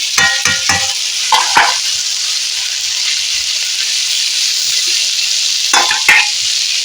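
Okra pieces and potatoes fry in a hot pan with a steady, bright sizzle throughout, punctuated by a few sharp crackles and clatters near the start and again toward the end.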